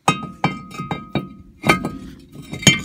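A brake rotor for a 1997 Jeep XJ axle is handled and set down in the garage, giving a series of close, sharp metallic clunks and clinks with a bright ringing edge, spaced irregularly over a few seconds.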